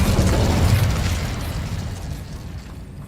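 An Incendio fire spell bursts in Hogwarts Legacy: a loud, dense whooshing roar that hits at once and then slowly fades over a few seconds, with no voices.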